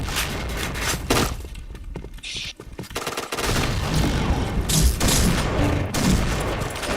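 Gunfire and grenade blasts in a first-person shooter video game: dense bursts of shots and sharp explosive cracks that come and go, with a loud, busy stretch of rapid fire in the second half.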